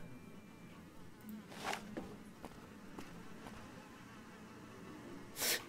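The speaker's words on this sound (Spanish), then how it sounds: "¿Son eso moscas lo que estoy oyendo? Se oyen moscas al otro lado de..." Flies buzz steadily in Fallout: New Vegas, a low continuous droning hum with a few louder passes as insects fly close, no voices over it.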